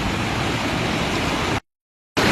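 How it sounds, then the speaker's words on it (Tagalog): Strong river current in a deep river rushes loudly and steadily as broadband water noise close to the microphone, cutting out briefly near the end before resuming. "Malakas ang tubig mga idol, malakas."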